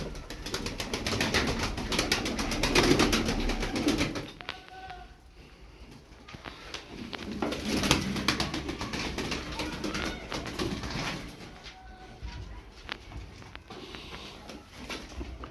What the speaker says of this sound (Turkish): Neyse abi kuşlar bunlar.